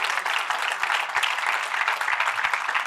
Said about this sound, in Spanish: Dele ese aplauso al Rey bendito.